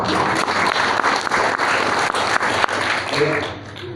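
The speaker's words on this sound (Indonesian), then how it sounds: "Berikan tepuk tangan" A church congregation at a Sunday worship service claps together in a dense, loud burst of applause that carries on steadily and fades slightly near the end.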